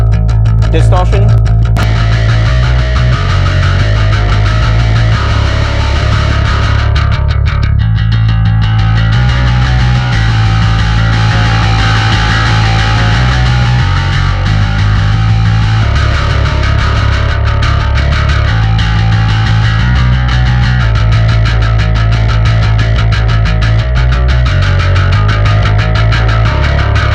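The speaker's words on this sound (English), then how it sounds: "Distortion." A distorted bass guitar from the Architects Bass library by Submission Audio, driving a gritty, rhythmic low riff of chugging notes, loud and sustained, inside a busy full-band mix.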